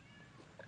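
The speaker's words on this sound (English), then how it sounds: "Can you guys hear that cat meowing?" An indoor cat gives a brief, faint meow, soft and somewhat distant, heard alone for under a second.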